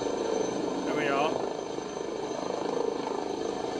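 An Airbus H160 helicopter in a flight simulator game taxiing on the ground gives off a steady engine and rotor drone that sits under continuous talk.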